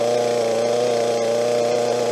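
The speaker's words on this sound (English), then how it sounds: "And let the saw idle." Two-stroke chainsaw, just started after a few pulls with the choke flicked off and the chain brake on, idling steadily with an even buzzing drone and nothing else heard.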